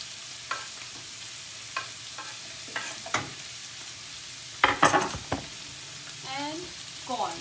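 Green beans, zucchini and corn are stir-fried in a pan, giving a soft steady sizzle broken by scattered clinks and scrapes of stirring, with a brief voice near the end.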